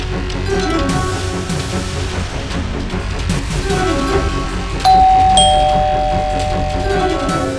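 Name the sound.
doorbell ringing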